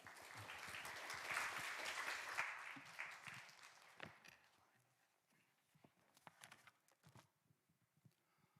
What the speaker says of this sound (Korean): 우리 목사님 나오실 때 우리 큰 박수로 우리 환영하겠습니다.